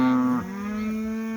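A single cow lets out a long, clear moo during a cattle drive in a pasture. The tone dips partway through and the call sounds near and loud, with no talk over it.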